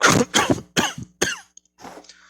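A series of harsh, hacking coughs in several close bursts, loud and near, with a short pause before a final rougher cough.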